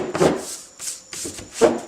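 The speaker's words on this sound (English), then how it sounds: "See if I can clean up my sanding paper here a little bit." Three short bursts of rubbing, a brisk scratchy back-and-forth of sandpaper being cleaned, close up with brief pauses between.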